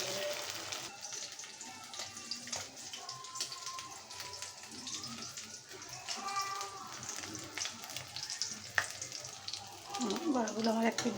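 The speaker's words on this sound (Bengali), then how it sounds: "আর এরকম করে আমি সবগুলো বড়া ভেজে নেব" Kachki fish fritters frying in hot oil, a steady low sizzle with scattered pops and clicks from the pan, moderately close and continuous throughout.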